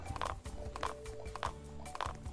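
Rhythmic clip-clop of horse hooves in a video game, four evenly spaced clusters of hoofbeats at a walking pace over a quiet game background.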